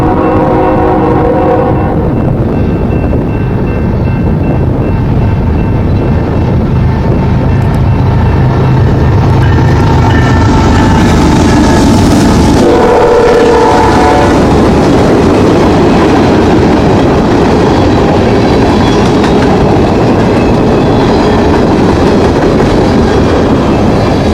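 A northbound freight train passes close by in Curve, Tennessee, its steady rumble and wheel clatter running loud for the full length with no break, a brief horn-like tone near the middle.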